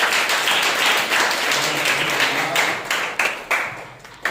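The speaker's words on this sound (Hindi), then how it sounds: "जोरदार ताली बजाइए।" Loud congregation applause fills a Sunday church service, a dense steady wash of many hands clapping that thins out toward the end with a few sharper claps.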